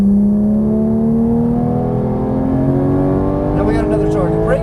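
A Porsche GT3 engine accelerates on the Las Vegas Motor Speedway track, a loud, close, steadily rising engine drone with strong harmonics climbing in pitch, with a voice briefly heard over it near the end.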